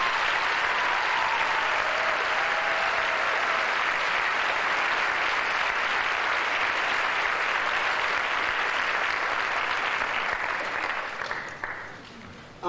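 A crowd applauds steadily for about ten seconds at a school choir show, a dense wash of clapping that holds level before thinning out and fading at the end.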